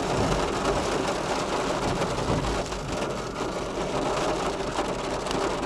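Steady rain pours down in the Harrisburg, Pennsylvania area as a train passes, a dense wash of patter and hiss with a low rumble underneath, continuous and fairly loud throughout.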